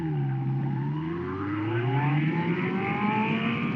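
A Kawasaki GPZ600R sport motorcycle engine pulls hard under acceleration, its rising harmonic whine climbing steadily in pitch as revs build, loud and continuous with wind noise beneath.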